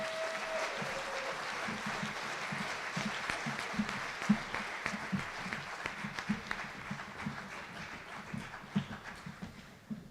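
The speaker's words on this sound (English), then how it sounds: "you guys can go ahead and clap for them again" An audience at a school choir spring showcase applauds the choir, with dense clapping that carries on steadily while faint low thumps and shuffling run underneath.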